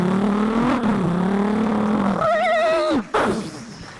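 A voice on a comedy stage imitates a Bullet motorcycle engine revving, a loud, wavering growl that rises into a high, wobbling whine before cutting off abruptly.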